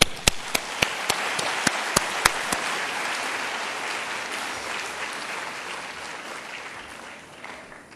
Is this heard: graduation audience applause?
yes